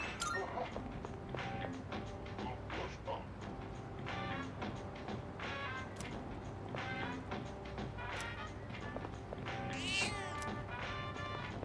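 In Persona 3 Reload, a cat meows several times over a soft, steady game music bed, with scattered light taps and chimes between the calls.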